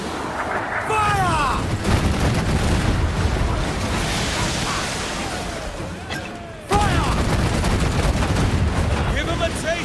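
Heavy booming ship cannon fire and explosions in Assassin's Creed Black Flag, dense and continuous, with excited talking over the top.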